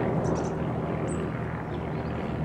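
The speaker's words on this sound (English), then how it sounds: "And an aeroplane as well." An aeroplane flying overhead outdoors gives a steady, distant, broadband drone that holds evenly throughout, with no talking.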